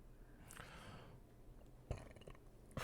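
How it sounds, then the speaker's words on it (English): A single short burp sounds near a microphone in a quiet room, followed a moment later by a faint breathy snort. "I'm sorry if you heard that burp"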